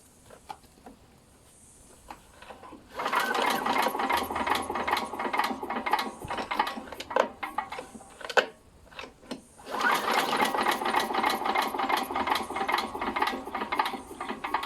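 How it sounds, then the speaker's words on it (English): Pull starter on a Talon Mach 460 small engine that will not start, yanked in two long bursts of rapid rattling, ratchety cranking separated by a quiet pause, close up with no voices. "and we'll pull the pull starter"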